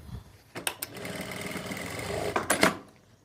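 A sewing machine stitches a seam on palazzo pants in one steady, rapid run of about two seconds, close and clear, with a clatter at the start and end.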